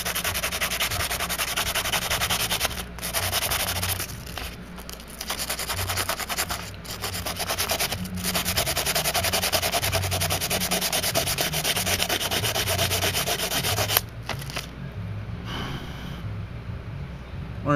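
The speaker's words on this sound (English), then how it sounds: "let me sand this one real quick" A Super Nintendo game cartridge being sanded by hand, close and steady rasping rubs in long continuous runs with a few short pauses, lasting the whole stretch with no talk.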